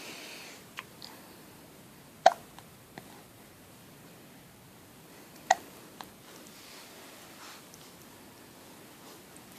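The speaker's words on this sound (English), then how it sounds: "You have the hiccups, little boy." A baby boy hiccups a few times, with soft, short, sharp catches spaced several seconds apart against quiet room noise.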